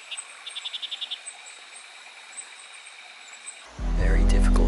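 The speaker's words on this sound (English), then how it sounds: "Hear these marsupial frogs calling all up this gully." Marsupial frogs call up a gully in a rapid clicking burst, then a few scattered chirps over steady insect-like hum, ending in a sudden loud rumble.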